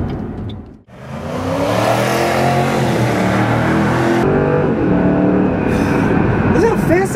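A Ford Mustang GT V8 roars as the car accelerates hard, pitch climbing then dropping sharply with quick gear shifts, loud and close throughout.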